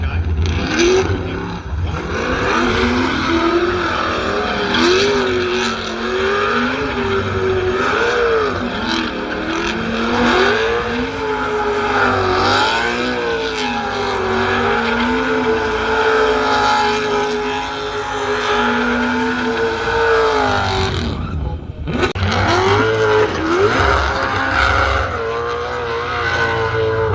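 LS-powered drift cars scream through a slide at a drift event, engines revving continuously at high pitch with rising and falling tones, loud and close, with commentary talking over the roar.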